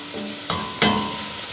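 Onions fry in a pan with a continuous close sizzle, broken by a couple of sharp stirring scrapes.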